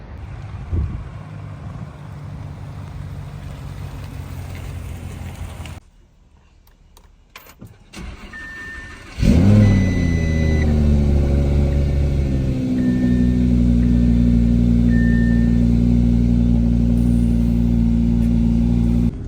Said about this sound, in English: my son loves starting the Audi R8